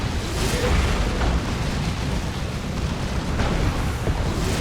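A tank is blown up during a Space Marines versus Tyranids battle in Warhammer 40,000: Dawn of War 2, heard as a sustained, rumbling explosive roar among continuous battle noise with dull booms.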